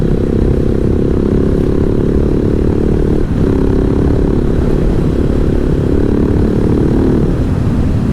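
A 2015 KTM SMC 690R motorcycle at speed, with its single-cylinder engine and intake giving a loud, constant low droning roar that dominates throughout, heard from the rider's position with heavy rumble and no talk.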